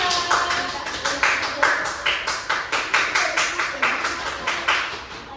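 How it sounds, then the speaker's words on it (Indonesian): A school class claps in unison for a student group, sharp, regular rhythmic hand claps repeating at a brisk even beat, loud and close. "Baik, berikan tepuk tangan untuk kelompok 2."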